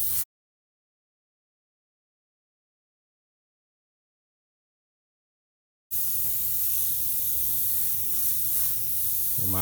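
Airbrush sprays paint onto a shark painting; after a short hiss and a long silence, a steady, close, airy spray hiss returns and continues to the end.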